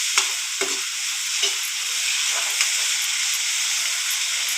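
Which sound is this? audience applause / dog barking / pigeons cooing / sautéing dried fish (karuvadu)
sautéing dried fish (karuvadu)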